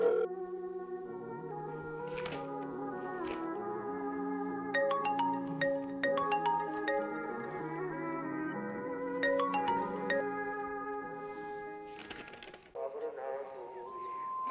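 An unanswered mobile phone plays a repeating melodic ringtone, clear tones cycling steadily for the whole stretch at moderate volume with no voices over it.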